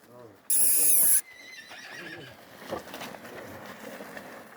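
A working mare gives a loud, shrill whinny lasting under a second, near, with a voice talking before and after amid outdoor background noise.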